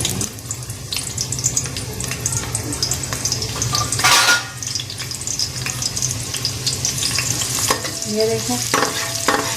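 A small onion sizzles in half a cup of hot ghee for rice, frying steadily with scraping stirs and a brief louder burst of crackle midway; a voice speaks briefly.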